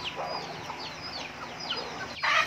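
Thai dragon chickens cluck and chatter close by in quick overlapping calls, with a burst of rustling noise at the end.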